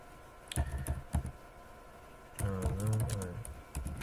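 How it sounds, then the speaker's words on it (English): Quick bursts of computer-keyboard typing as a chat message is entered, close and crisp in short clusters separated by pauses, with a voice briefly talking over part of it. "Now I write a message."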